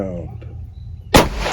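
A rifle fires a single loud, close shot near the end, the last round of a range session testing a Discovery Optics ED PRS 5-25x56 SFIR first focal plane scope; quiet range noise comes before the sharp crack and its ringing tail.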